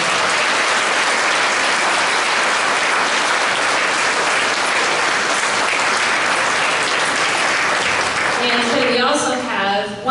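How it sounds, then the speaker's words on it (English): Loud, sustained applause from a concert audience for the soloists at a school music hall of fame evening, dense clapping filling the whole stretch, with a few voices and a trace of music surfacing near the end. "one more big round of applause for all of our soloists this evening."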